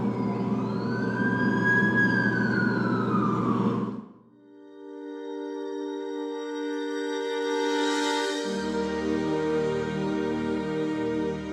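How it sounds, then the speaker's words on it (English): An ambulance siren in The Amazing Spider-Man 2 video game wails loudly for about four seconds, then cuts off. After a short lull, a sustained electronic tone and a low rumble take over. "That's the ambulance I called."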